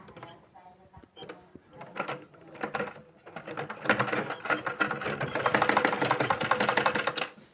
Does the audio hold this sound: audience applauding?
no